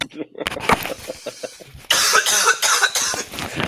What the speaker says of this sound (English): One cough for the road.